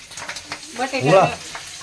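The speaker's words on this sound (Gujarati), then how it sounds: "શું કરાવે? ભૂંગળા તળું જો હવે" Bhungla snacks fry in hot oil with a bubbling sizzle that swells briefly, then settles, heard up close.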